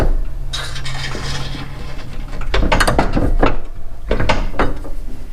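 Ratchet wrench clicking and clunking as a mower blade bolt is tightened on a Timecutter SS 5000. Bursts of close, loud metallic ratcheting come in uneven strokes, with no speech.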